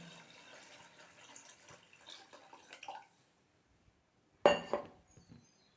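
Four tumblers of water pour and splash into a cooking pot for the first few seconds, then stop; after a pause comes a short, sharp clatter.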